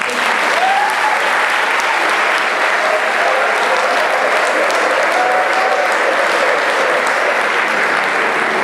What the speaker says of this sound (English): you should give yourselves a round of applause for that